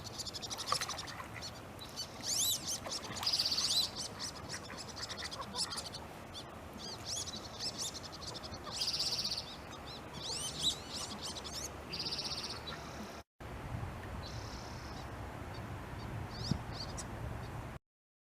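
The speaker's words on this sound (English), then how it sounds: "I'll add some bird sounds." Bird calls and chirps, added as background, play quietly and continuously for about eighteen seconds with repeated short tweets and whistles, a brief gap near the end, and no talk over them.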